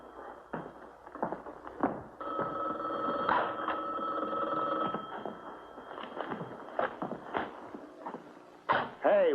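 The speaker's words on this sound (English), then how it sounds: "There's that phone again." A telephone rings in an old radio drama, its bell sounding in sustained bursts under and between voices of people talking.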